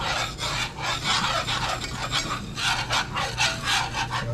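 A whisk scrapes and rubs steadily through flour in a pan for homemade gravy, a loud, close, rhythmic rasping of strokes continuing without talk.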